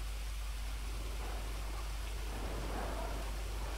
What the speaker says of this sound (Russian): Вот этот дождь просто, если честно, еще очень мешает